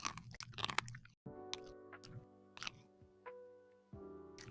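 A small creature bites into a little piece of pizza bread crust, giving close, crisp crunches in bursts followed by steady chewing. Faint background music plays underneath, with no talking.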